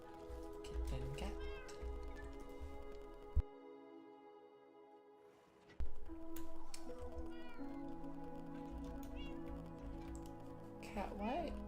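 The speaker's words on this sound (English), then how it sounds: "Kitten cat." Cat meows from a Minecraft game, several short meows scattered over steady game music and ambience, with a person talking throughout.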